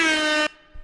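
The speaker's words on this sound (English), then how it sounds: "a really good air horn" A single loud, flat air-horn blast from a soundboard lasts about half a second and then cuts off abruptly, followed by a faint low thump.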